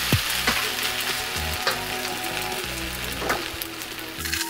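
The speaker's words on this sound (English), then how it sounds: "Chop it up a little bit, stir it around, evenly distributing it throughout the rice" Shrimp fried rice with egg being stirred around a frying pan, a steady close sizzle broken by repeated scraping and clacking strokes of the utensil, with no talking.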